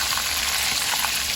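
Chicken pieces frying in a pan for a chicken roast, a steady close crackling sizzle of hot oil that holds evenly throughout without pause.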